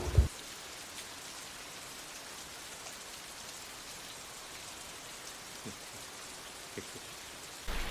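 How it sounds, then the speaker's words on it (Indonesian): Heavy rain pours down steadily, a dense continuous hiss of drops on surfaces with a few faint knocks and no voices. "Di tengah derasnya hujan,"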